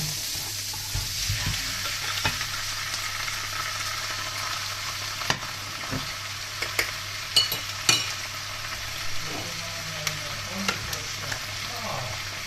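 Chicken pieces fry for adobo in a home kitchen pan, giving a soft steady sizzle punctuated by sharp spatula scrapes and taps, close and without speech.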